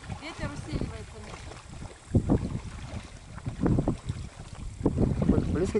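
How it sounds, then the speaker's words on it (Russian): Gusty wind buffets over open water, with rumbling low gusts rising and falling around a small two-person inflatable kayak; voices talk faintly beneath the roar. "Ветер усиливается."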